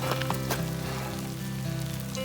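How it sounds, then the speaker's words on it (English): Ice pellets pattering steadily during an August storm in the High Uinta mountains of Naturalist Basin, a dense crackling hiss with a few sharper ticks, close around and continuous throughout. "the ice pellet storm."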